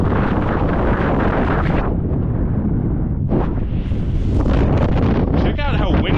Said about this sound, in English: Check out how windy it is.